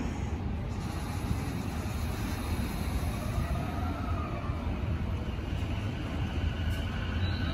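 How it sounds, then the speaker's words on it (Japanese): A JR Chuo Line train pulls out from the elevated platform at Tokyo Station with a steady, loud, close rumble of wheels and cars rolling past that holds throughout. "1番線から電車発車しております。"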